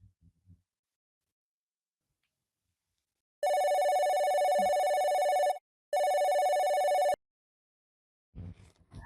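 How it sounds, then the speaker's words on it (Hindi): An electronic telephone rings loudly and close by in two long bursts separated by a short gap, with brief soft knocks before and after. "मेरी सास का ना बार बार फोन आ रहा है"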